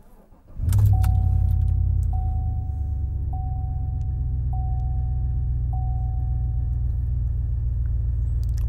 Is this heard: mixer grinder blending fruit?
no